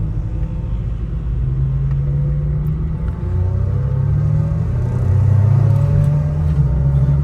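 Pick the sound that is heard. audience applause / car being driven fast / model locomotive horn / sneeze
car being driven fast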